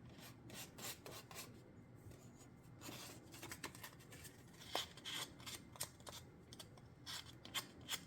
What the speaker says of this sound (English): it doesn't take much to actually sand these down